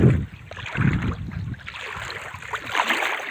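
A rain-swollen stream rushes across a rural main road after heavy rain, a steady close wash of flowing water with some wind buffeting the microphone.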